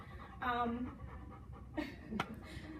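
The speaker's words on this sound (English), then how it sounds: "He's my foster dog and he is available for adoption." A foster dog pants in quick, soft breaths, close by and quiet, under a voice in an indoor room.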